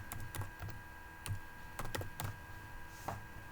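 Someone types a ping command on a computer keyboard, producing about a dozen quiet, separate key clicks at an uneven pace with short pauses between them, and no voices.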